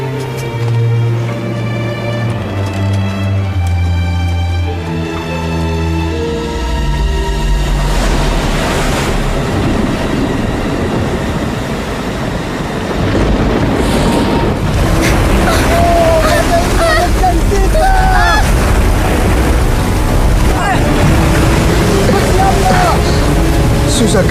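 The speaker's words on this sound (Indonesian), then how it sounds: "Susah kendalikan kapal karena ombak ini. Ombaknya besar sekali." Big waves pound a boat in a dramatized storm, starting with a tonal drone, then a loud continuous wash of surf and rushing wind that swells and stays heavy, with voices faintly heard under it.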